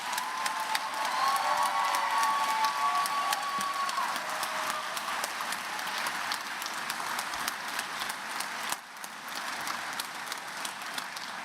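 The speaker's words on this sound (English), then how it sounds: "Let's give them all a round of applause." A concert hall audience at a university graduate commencement applauds master's degree candidates, with a broad, sustained wash of clapping and some cheering that thins slightly near the end.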